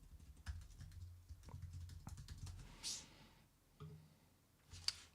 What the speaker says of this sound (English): I hate it when I see myself typing.